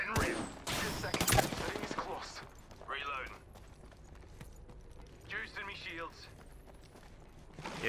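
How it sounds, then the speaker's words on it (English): Rapid bursts of gunfire from Apex Legends crackle loudly at the start, then quieter scattered shots and mechanical clatter follow under spoken voice lines. "They're shooting at me."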